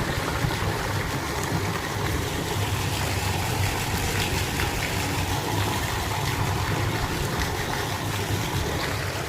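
A farm well's water pump motor runs on a cold morning beside a wheat field, giving a steady, loud mechanical drone with a low rumble that holds even and unbroken throughout, with no voices.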